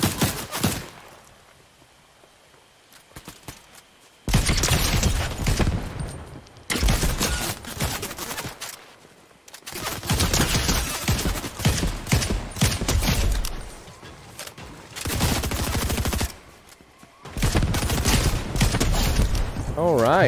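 Gunfire in a Fortnite live event match, with loud bursts of rapid shots and fusillades broken by short quiet gaps, while a voice talks over the action.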